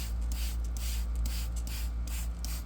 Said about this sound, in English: So I spray on my solution pretty good.